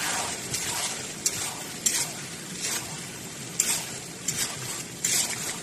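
Hilsa fish head and Malabar spinach curry sizzles steadily in a pan while a spoon stirs it, with several soft scraping sweeps and light clinks against the metal. No voices.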